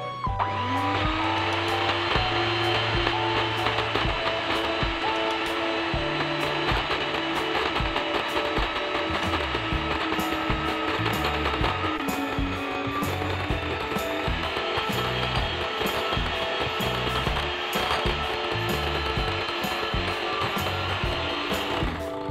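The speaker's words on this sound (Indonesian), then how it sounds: "Aku mau langsung aja mixer sampai mengembang," An electric mixer whips whipped cream powder with cold water for a milk cream donut filling, its motor spinning up and then running in a loud, steady whir with a rattling mechanical edge throughout.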